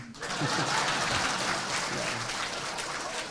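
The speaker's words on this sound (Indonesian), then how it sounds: "Masa tidak tepuk tangan?" Audience applause in a hall during a lecture on Islam and the Indonesian military, a steady broadband wash of clapping that rises quickly and holds for a few seconds.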